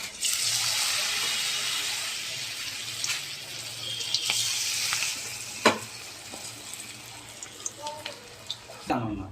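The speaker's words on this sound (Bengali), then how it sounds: "এবারে আমি এইভাবে নিয়ে বড়াগুলোকে ভাজবো।" Batter fritters (bora) fry in hot oil with a close, steady sizzle that fades somewhat, broken by sharp clicks and clinks of utensils.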